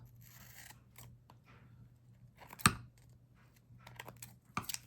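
Scissors snipping through paper for a Halloween craft, a few quiet close cuts with one sharp louder snip in the middle and a couple more toward the end, over a faint low hum.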